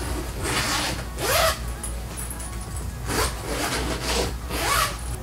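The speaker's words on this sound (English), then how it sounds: "they do have a zipper option" Zipper on the side panel of a Sunakie portable foldable steam sauna, drawn in three separate rasping pulls spaced a couple of seconds apart, close and fairly loud, with no talk.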